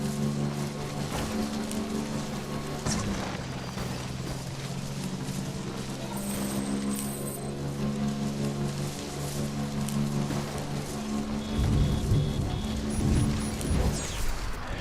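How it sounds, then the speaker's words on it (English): Steady rain patters across the ground in the video game Death Stranding, a continuous wash beneath droning low tones and occasional faint high chimes, with a few heavier thuds and no voices. "We got some rain."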